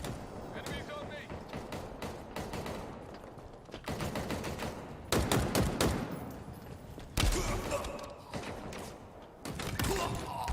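Bursts of rapid video game gunfire, automatic volleys and heavy shots, come in loud clusters with brief lulls between them, with voices in the mix.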